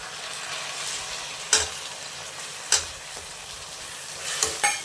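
Field beans being stirred into chitranna frying in a pan, a soft continuous sizzle broken by several sharp clinks and scrapes of the spoon against the pan.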